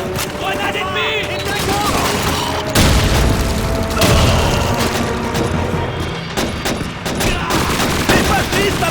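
Grenade blasts and bursts of rifle and machine-gun fire crack through a Russian-campaign battle in Call of Duty 2, loud and dense with booming impacts, while soldiers shout over the fighting.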